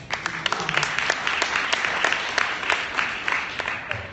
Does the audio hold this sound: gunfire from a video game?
no